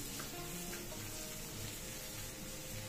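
Chopped tomatoes fry in a pan, giving a continuous, loud sizzle up close with light stirring scrapes mixed in and no speech.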